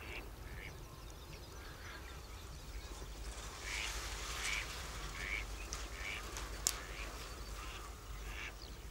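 A flock of about 1,000 geese honks and calls at a distance at Villafáfila, scattered overlapping cries over steady outdoor background noise, with one sharper click near the end.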